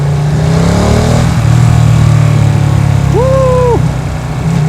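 A Ducati Panigale V2 sport motorcycle engine growls loud and close at a steady idle, then rises in a short, clean rev that climbs, holds briefly and drops back.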